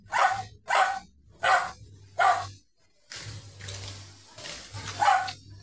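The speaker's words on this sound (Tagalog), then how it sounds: "Cute na aso." A dog barks four times in a steady rhythm, close by, then a longer stretch of softer yelping and growling follows with one more bark near the end.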